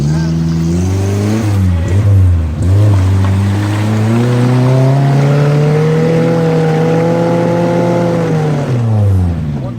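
An off-road car engine on a forest trail in Ngaliyan, Semarang, revs hard and holds at high pitch, rising and falling, loud and close, with faint voices underneath.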